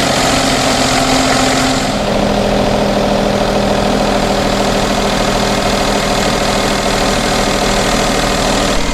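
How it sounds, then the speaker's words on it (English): A Daihatsu Tanto L350S engine with a head gasket repair idles steadily, a loud, even mechanical hum and faint knock that shifts slightly in tone after the first two seconds, with no voices. "I've got to run the engine for like 15-20 minutes, let it get fully warm"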